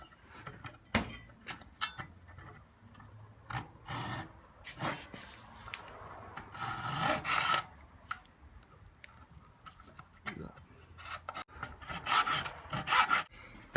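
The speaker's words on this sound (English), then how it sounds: "I'm actually going to use a hacksaw to get through that bit there" Hacksaw cutting through a metal part at a workbench, heard as irregular rasping strokes in short bursts with pauses between, fairly close and alone without talk.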